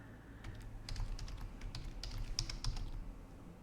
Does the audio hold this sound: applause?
no